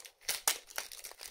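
Scissors snip open a Pokémon TCG Scarlet & Violet 151 booster pack, giving a few crisp, close cuts mixed with crinkling foil wrapper noises and no talking.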